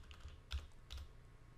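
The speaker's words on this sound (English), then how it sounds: "So I'm gonna do in the keyboard, so Shift and 2." Two quiet, close keystrokes as Shift and the 2 key are pressed on a computer keyboard, a soft click followed by another about half a second later in an otherwise hushed room.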